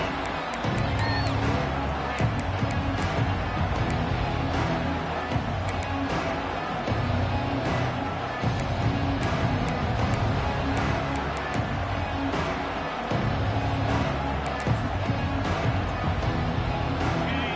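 A stadium crowd in a college football video game, Florida at Texas A&M, keeps up a steady roar with cheering throughout. It plays as a dense, constant wash of noise over a low hum.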